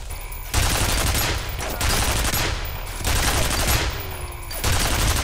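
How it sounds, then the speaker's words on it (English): Security turret gunfire in a video game pours out in loud, sustained automatic bursts with brief gaps between volleys, dense and close, with no voices over it. "Stop shooting already!"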